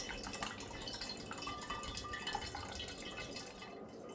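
Homemade blackberry cider poured straight into a demijohn, giving a faint, steady trickle and drip of liquid that runs without pause and with no voices.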